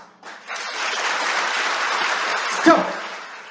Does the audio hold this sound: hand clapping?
yes